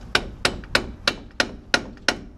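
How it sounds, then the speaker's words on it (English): Seven sharp metallic hammer strikes during wheel bearing replacement on a 2007 Ford F-150 land at a steady, even pace, each ringing briefly before the next blow, close and clear. "You can hammer with it."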